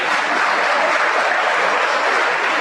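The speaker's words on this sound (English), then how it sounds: "Give her a hand clap." A middle school promotion ceremony crowd claps for a student, a thick, steady roar of hands that holds evenly at full volume with no talking over it.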